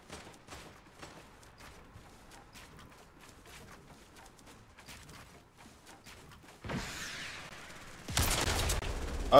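Scattered gunshots ring out across a video game battlefield, a string of faint, sharp cracks at irregular intervals, followed by louder, denser bursts of noise near the end.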